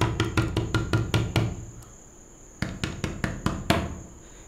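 Knocking on a door at night comes as two quick bursts of rapid, hard raps, about seven each, with a short pause between and crickets chirping faintly behind.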